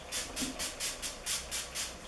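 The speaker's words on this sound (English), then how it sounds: "This is the NYX Matte Finishing Setting Spray. This is a mini one, but let me use it." A mini NYX Matte Finishing Setting Spray is pumped about eight times in quick, steady succession, each spritz a soft, airy hiss, close but quiet.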